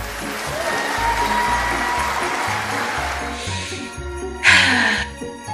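Recorded applause played over a Zoom holiday concert, a steady wash of clapping with a brighter burst near the end, laid over a low rhythmic musical backing.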